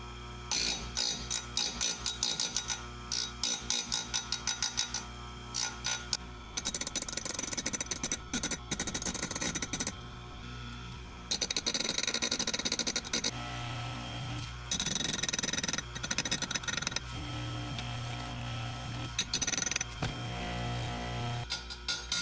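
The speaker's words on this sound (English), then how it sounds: "that's my first time using the Orgun 520 120 chain grinder" An Oregon 520 120 chain grinder runs continuously with a dense whirring, buzzing grind that rises and falls as the wheel contacts the saw chain, with no talk over it.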